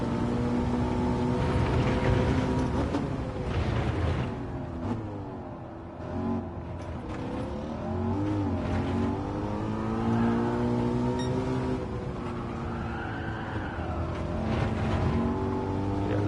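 A Ford Mustang in Gran Turismo 7 climbs the hill at Laguna Seca, its engine note rising and falling through gear changes as the revs build, loud and steady throughout.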